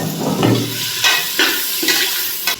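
Three chopped onions sautéing in butter in a pan for veg paneer biryani, with a steady close sizzle broken by several spatula scrapes at a loose rhythm.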